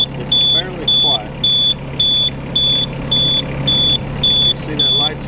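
A 2020 Yanmar Vio25-6A mini excavator sounds a steady, evenly spaced warning beep about twice per second, high and piercing over the low idle rumble of its engine, with some faint clatter in between.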